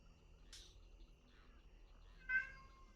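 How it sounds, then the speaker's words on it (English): A cat screams far off, two or three faint, thin cries against quiet night background noise. "A cat screams in the distance."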